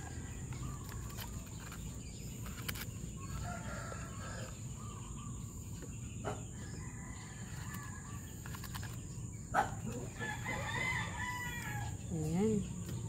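Young Bulik and Barbaro chicks and roosters crow and cluck in a farmyard, with scattered calls over a steady hum of insects and a high constant whine, and a wavering crow near the end.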